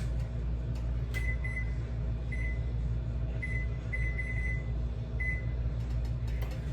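A kitchen timer is set, giving several short high beeps in an irregular series over a steady low hum of cooking appliances in the background.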